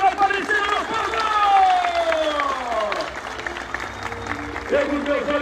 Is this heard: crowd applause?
yes